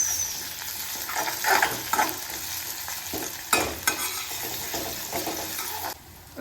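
Tomatoes are stirred into a sizzling pan of sprouted moth bean curry, with loud frying hiss and several scraping strokes of a spoon against the pan before it quiets near the end.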